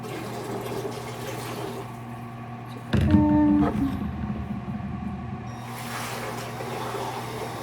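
About 1,000 milliliters of water is poured into a container at a pottery studio: a short, splashy gush of a second or so rises above steady room hum, then tapers into a faint trickle.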